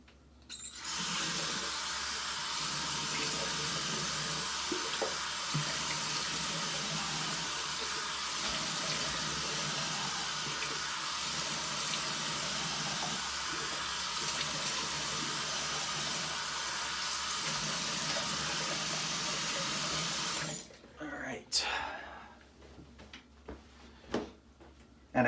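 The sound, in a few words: water from a tap, splashed on the face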